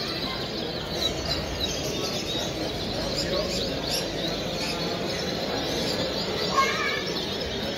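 At a canary breeding contest in Dos Hermanas, many caged canaries sing in a steady chirping wash over a noisy hall, with a few clearer trills near the end.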